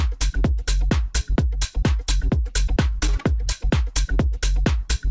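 Short, punchy synth stab with a tom-like low-end thump from a tech house track, repeating in a tight rhythmic loop of evenly spaced hits, loud and alone.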